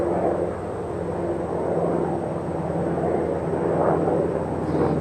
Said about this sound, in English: We got some big airplanes overhead.